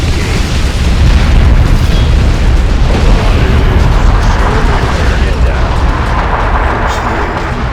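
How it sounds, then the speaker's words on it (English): Bombing-run explosions from Dawn of War II rumble in a continuous heavy barrage of deep booms, loud and sustained across several seconds. "Thunderhawks 3 and 4, follow with bombing run"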